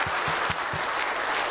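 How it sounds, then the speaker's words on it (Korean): A church congregation clapping for soldiers, a dense, steady round of applause from many hands, moderately close and continuous for the whole brief stretch. "한번 우리 군인들을 위해서 박수 한번 보내주겠습니다"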